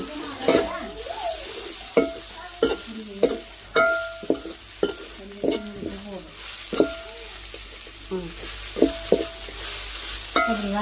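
Spinach and other ingredients are sautéed in a pan at home, with a soft steady sizzle broken by irregular scrapes and clatters of a spoon stirring, close up and without speech.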